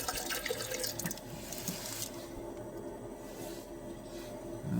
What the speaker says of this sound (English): Gonna cover it over with some water.